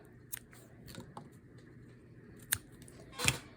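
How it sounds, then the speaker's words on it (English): Scissors trimming excess material while finishing a Halloween cloche craft project, a few quiet, close snips scattered over a few seconds with a sharper cut near the end, and no talking. "And trim away our excess."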